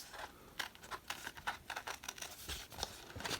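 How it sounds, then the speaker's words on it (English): Scissors cut through paper in quick, quiet snips and crinkles, a close, faint series of short papery bursts with no talking. "I cut with the scissors in my right hand"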